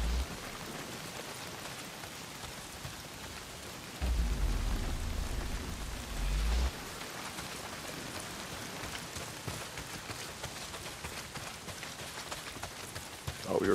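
Heavy rain pours in the video game Days Gone, a steady broadband hiss across the whole stretch with a louder low rumble for a few seconds in the middle, no voices.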